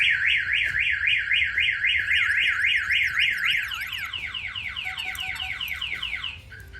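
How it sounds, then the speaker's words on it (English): A loud car alarm on a 1968 Ford Mustang cycles through a rapid warbling siren, then switches to a choppier pulsing pattern before cutting off near the end. "Somebody bang on the window, it will fire off the alarm."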